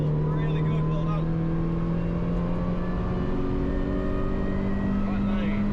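A Toyota 86 at full throttle on a race track, its engine note droning loud and steady with a rising pitch as it pulls hard, close and continuous throughout.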